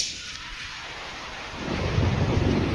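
Heavy rain hisses steadily in an anime scene, then a deep rumble of thunder swells and rolls underneath the downpour, loud and close, with no voices.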